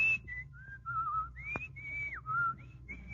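A man whistles a song, a clear solo whistled tune of short sliding notes with brief pauses between phrases, close and with no talking.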